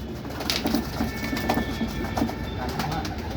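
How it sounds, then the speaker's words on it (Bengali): A pair of Kaldoma pigeons cooing softly nearby, soft low coos repeating in an uneven rhythm over a faint background hum. "এক পেয়ার কালদমা বন্ধুদের শখ করিয়ে দাও।"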